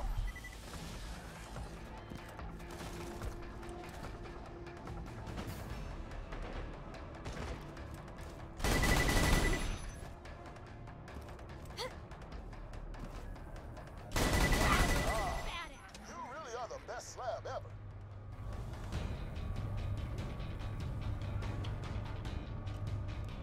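Gunfire in Borderlands 2 during an any% Gaige speedrun: frequent rapid shots and bursts, with two loud heavy blasts standing out, all under steady talking.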